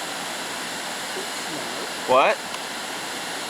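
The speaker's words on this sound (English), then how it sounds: "this is the waterfalls that we ran into" Waterfall near Woodstock Tower Road, heard as a constant broadband rush of falling water, with a brief spoken word from a nearby voice partway through.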